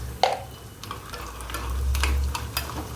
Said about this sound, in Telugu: పోపు నూనె వేసి వేరుశనగ గుళ్ళు అంటే పల్లీలు,